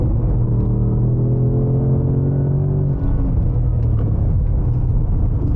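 A Ford Mustang on a racetrack during a trackday drones steadily from inside the cabin, engine note rising then dropping at a gear change between third and fourth, continuous and loud with no talk.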